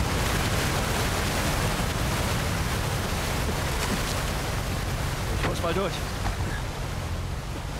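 Waterfall in the Uncharted 4 video game, a dense, roaring rush of falling water that fills the whole span steadily, with someone speaking briefly over it.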